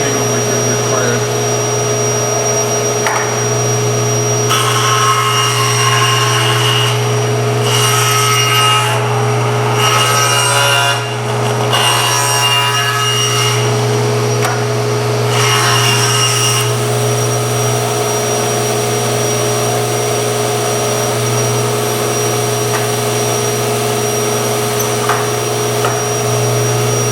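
A table saw cuts wood for seat carving, its motor humming steadily throughout, with a stretch of rougher, louder cutting bursts in the middle as passes are made.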